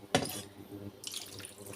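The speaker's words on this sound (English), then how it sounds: "So briefly, I'm adding little water more." Water is poured into a cooking pot of ogbono soup with cow skin, chicken, beef and fish, a short splashing pour followed by a second gentle burst of running water.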